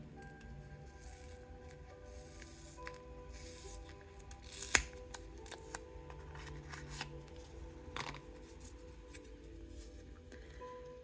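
Paper envelopes handled and opened nearby, with soft rustling and rubbing, a sharp tearing snap midway and scattered quieter crinkles, heard with no one talking.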